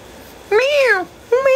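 A human voice imitates a cat, giving two drawn-out meows, the first long and rising then falling, the second shorter, loud and close.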